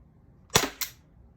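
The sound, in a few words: Umarex T4E Glock 17 gen 5 shooting nylon balls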